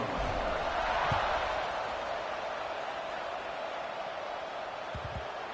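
A stadium crowd at a football game, just after a two-point conversion and before the kickoff, keeps up a broad steady roar and murmur. It stays fairly loud throughout, with a few scattered thumps.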